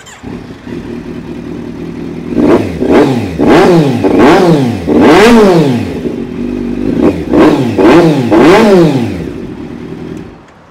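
A Kawasaki Z900 superbike fitted with an Austin Racing custom exhaust fires up and revs hard and close in a series of sharp rising-and-falling blips, settling back to a throaty idle between bursts.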